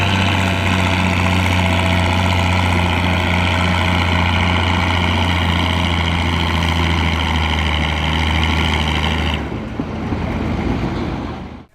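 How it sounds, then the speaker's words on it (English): A tractor at a small-town Iowa summer celebration's tractor pull runs as a loud, steady engine drone with strong low harmonics, holding constant for about nine seconds before cutting off abruptly near the end. "No Iowa small town celebration would be complete without a tractor pull."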